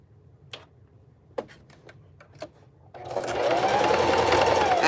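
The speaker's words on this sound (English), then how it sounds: "So I'm just sewing down one end on one side a little bit, not very long." Singer Heavy Duty sewing machine stitching fabric for a craft gnome tag: a few faint ticks and clicks first, then a steady, loud motor-driven running hum that continues to the end.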